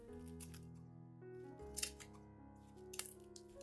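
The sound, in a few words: scissors cutting onion skins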